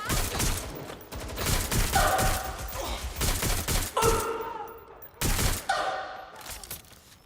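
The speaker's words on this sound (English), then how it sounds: "Someone's shooting!" Bursts of gunfire from the video game Watch Dogs: Legion, loud and close, with rapid volleys and single shots in uneven clusters throughout.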